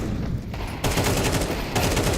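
Counter-Strike gunfire in a professional match: bursts of rapid rifle shots crackle in a steady, fast rhythm, with a brief pause before another close, loud volley.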